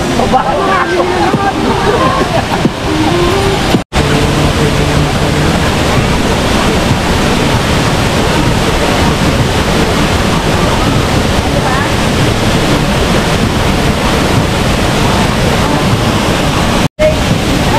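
Storm wind and rushing water at Pinsal Falls make a dense, loud, constant roar with gusty buffeting on the microphone, broken only by two brief dropouts.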